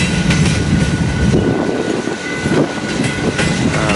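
Freight train cars roll past close by, a loud continuous rumble with rhythmic wheel clatter and metallic squeals over the rails, with no talking.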